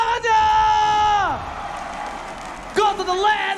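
An MPL Arena esports crowd at an ONIC versus Alter Ego Mobile Legends match cheers and whoops loudly, then briefly fades before a fresh burst of yelling rises again.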